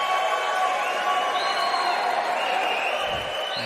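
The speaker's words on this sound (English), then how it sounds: "Rob Cross on the scoreboard and takes the acclaim of the crowd while he can." Darts crowd at the 2022 Gibraltar Darts Trophy final session cheering and applauding for Rob Cross, a steady loud wash of crowd noise with whoops, continuous throughout.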